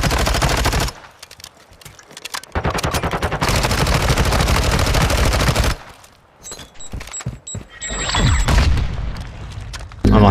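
Loud, close video game gunfire during a competitive shooter round, with long sustained bursts of rapid automatic fire and heavy booming shots, then a brief lull before sparser single shots and another dense burst.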